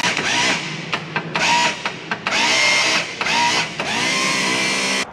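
A Mercruiser Alpha One Gen Two sterndrive trim pump motor, powered from a battery, whirs loudly and close in repeated bursts, stopping and starting several times with no talking.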